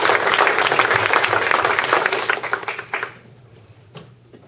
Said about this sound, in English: let's give them a round of applause as well for their sacrifices